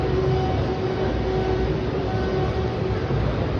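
A train passing by, a steady low rumble and rolling wheel noise that stays constant and fairly close throughout, with a faint tonal hum over it and no talk.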